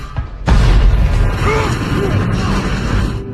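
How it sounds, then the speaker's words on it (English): A sudden heavy explosion from the TV series Lost, a deep close boom that bursts in after a brief lull and rumbles on with debris and mechanical noise, with faint voices underneath. "But the explosion left Sun trapped."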